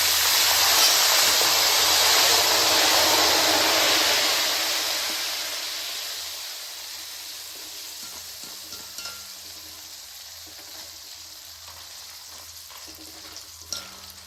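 Loud, dense sizzling of banana chips frying in hot oil as salt water is sprinkled in, gradually settling into a quieter, softer crackle with faint scattered pops.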